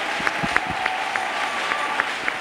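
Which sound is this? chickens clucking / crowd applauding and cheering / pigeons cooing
crowd applauding and cheering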